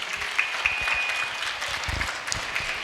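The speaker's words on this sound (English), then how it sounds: "A big round of applause to all our sisters." An audience at a school community gathering breaks into warm applause, a continuous wash of clapping with a few louder individual claps and a faint whistle-like tone, fairly close and sustained.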